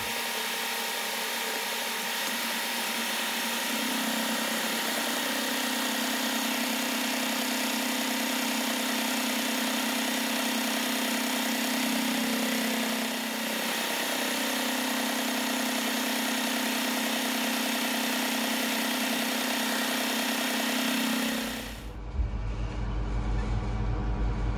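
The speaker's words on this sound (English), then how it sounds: "so just do it with a fly cutter" Fly cutter on a milling machine taking a light skim cut off a metal blade for a bevel square, a steady loud whirring drone with a tonal cutting hum that stops abruptly near the end.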